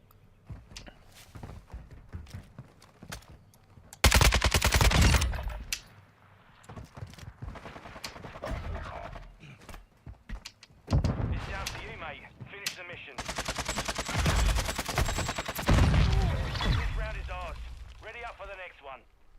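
Call of Duty gunfire: bursts of automatic weapon fire and single shots, with loud heavy volleys around the middle and later stretches, mixed with game effects and someone talking over it.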